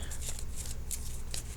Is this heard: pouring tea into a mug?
no